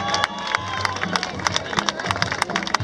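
An audience at an awards ceremony for an international running race applauds, with sharp, uneven claps and crowd noise mixed together, loud and close.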